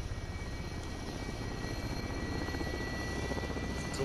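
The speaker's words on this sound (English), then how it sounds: "Come on, chopper, hurry up." Helicopter in Call of Duty Modern Warfare, a steady, loud rotor chop with a rapid rhythmic beat over a droning engine, constant throughout.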